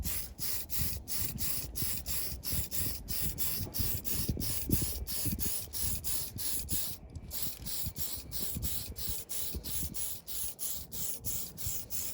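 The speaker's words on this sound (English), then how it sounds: "Now, you're just gonna hit it with one light coat evenly." A light, even coat of spray paint goes onto a drag car body as a continuous airy hiss, broken by a regular ticking pulse that runs throughout at close range.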